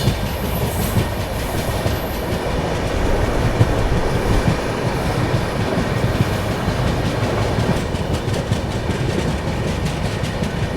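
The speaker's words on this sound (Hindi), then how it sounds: "यहाँ इटारसी का WDG 4 शेडिंग करता हुआ" A train hauled by an Itarsi-shed WDG4 diesel locomotive rolls along steadily, wheels clattering in a constant rhythmic clickety-clack with rumbling carriages throughout, no voices.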